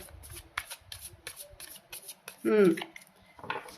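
Tarot cards are shuffled by hand, close and fairly soft, in a run of quick, repeated riffling bursts. A short vocal sound interrupts briefly midway.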